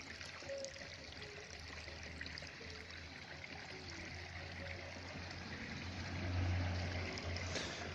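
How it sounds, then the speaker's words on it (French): Water from a garden pond waterfall cascade flows steadily, a soft continuous rushing and trickling with no voices. "Voilà la cascade."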